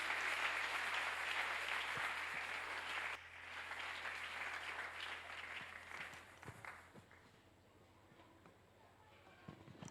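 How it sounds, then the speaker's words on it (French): A church congregation claps and cheers loudly for about three seconds, then the applause thins out and fades, with voices and scattered claps continuing underneath. "Sous vos acclamations"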